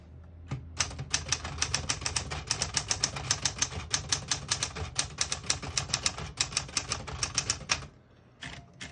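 Rapid mechanical keystrokes clack on a 1970 Smith-Corona Super Sterling manual portable typewriter in an uneven, continuous rhythm, then stop, followed by a couple of final taps.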